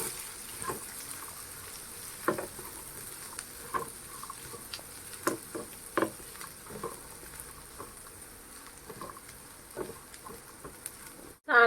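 A pan of peas fry, with the peas lightly mashed, is stirred and mixed, giving a soft, steady sizzle under repeated scraping and clicking strokes of a spoon, close by.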